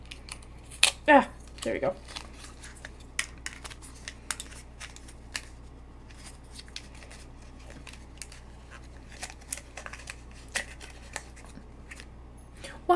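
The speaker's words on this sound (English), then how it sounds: "The package I'm gonna have to rip open." Colourpop mystery box package being ripped open, a few sharp tearing and crinkling bursts early on, followed by scattered soft handling rustles under occasional talk.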